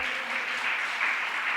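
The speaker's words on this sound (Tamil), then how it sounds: "கைத்தட்டி அல்லையில சொல்லுவோமா?" Audience at a Tamil Christian worship service clapping steadily, a dense continuous patter of many hands filling the room at even loudness with no talk over it.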